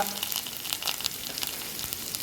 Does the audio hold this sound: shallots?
yes